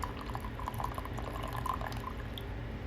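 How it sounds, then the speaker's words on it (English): Freshly brewed French press coffee pours into a mug in a steady, continuous liquid stream, soft and close, with a low rumbling undertone. "Pour it out to a mug"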